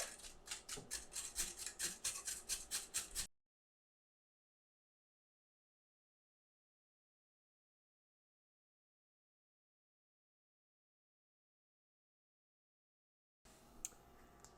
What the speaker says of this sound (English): I'm just gonna use the biggest grater that I have.